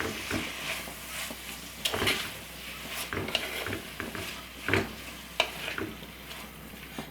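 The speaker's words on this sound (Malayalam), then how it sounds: "സവാള ഒന്ന് വഴന്നു നോക്കാം" Sliced onions sauté in coconut oil in a pan for crab biryani, sizzling quietly as a spoon stirs them with irregular scrapes and clatters against the pan, close by and with no talking.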